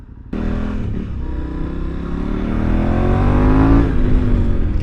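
A motorcycle accelerates hard, its engine note rising steadily in pitch and loudness over a few seconds as the rider twists the throttle, heard close up from the bike itself.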